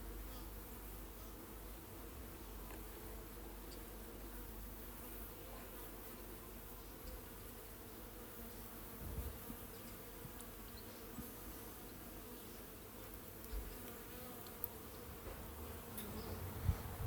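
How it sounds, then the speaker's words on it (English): Honeybees buzz steadily inside a small mini nuc hive being split, a soft continuous drone with occasional closer passes and faint knocks, no talking. "There's actually a few more bees on in this hive sitting on the combs than the one before"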